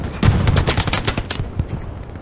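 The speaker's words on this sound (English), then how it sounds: "That is not me shooting at him." Rapid bursts of gunfire from the World War II shooter Hell Let Loose at Stalingrad, a dense string of close, loud shots fading to scattered cracks and quieter distant fire.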